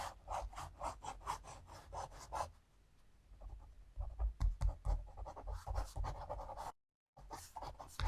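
A pencil rubs and scratches across paper in a rough sketch of a rooster for a watercolor painting, close and steady in short strokes, with a brief pause partway and a moment of silence near the end.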